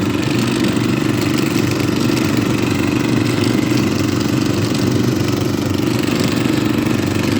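A walk-behind tractor engine runs in snow, giving a loud, steady, close drone with a rough mechanical clatter and no letup.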